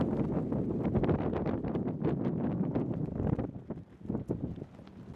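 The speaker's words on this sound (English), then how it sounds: "The wind up here is phenomenal." Strong wind gusting across the open deck of the museum freighter SS Col. James Schoonmaker on the Great Lakes, a loud, continuous rushing roar with buffeting surges close to the microphone, no talk.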